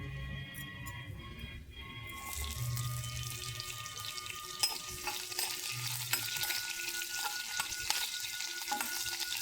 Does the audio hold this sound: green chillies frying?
yes